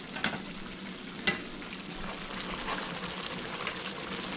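Hawaiian-style baby back ribs sizzle and bubble steadily as they cook, a constant crackling hiss with a couple of sharper pops and clicks standing out.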